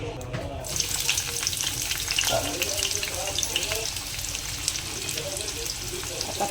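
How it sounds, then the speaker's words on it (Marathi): Sliced onion hitting hot oil in a home kitchen pan, a steady close crackling sizzle with light stirring and scraping throughout, faint background voices now and then. "आता तेल मस्त आपलं तापलं आहे याच्यामध्ये आता आपण कांदा टाकूया"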